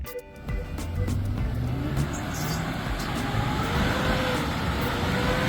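A luxury SUV's tires spin on a wet boat ramp, the engine revving hard and steady under a continuous gritty whir of slipping rubber, close and loud throughout.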